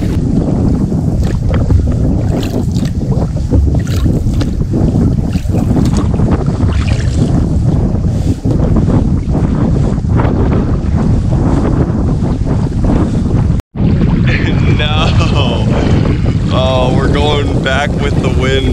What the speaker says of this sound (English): Back with the wind, so we're gonna have to battle this the whole way back